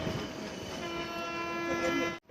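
Passenger train at a station sounds its horn in a long, steady, sustained tone over the rumble of the train, cutting off abruptly at the end.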